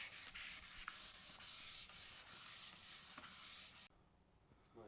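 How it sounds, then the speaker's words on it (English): Steady abrasive sanding on Nissan S13 car wheels, a continuous rasping scrub with rhythmic strokes for about four seconds, then cutting to a quieter tail. "we've been sanding here for what would you say, like 20-30 minutes?"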